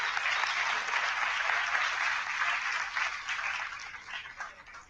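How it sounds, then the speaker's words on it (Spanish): An audience applauds at an academic ethnobiology panel after a speaker is introduced, a dense, even clapping that holds steady before thinning and fading toward the end. "Por favor, un aplauso a José Blancas."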